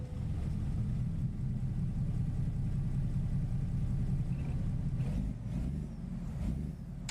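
A heavy truck engine idles with a steady low rumble and faint hiss in American Truck Simulator, loud and continuous, with brief air-brake-like bursts near the end.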